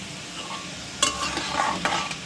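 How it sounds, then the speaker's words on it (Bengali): Homemade biscuit sweets fry slowly in hot oil with a steady sizzle, broken by a few sharp clinks and scrapes as a utensil stirs the pan close by. "তারপর এটাকে আস্তে আস্তে করে ভেজে নিতে হবে।"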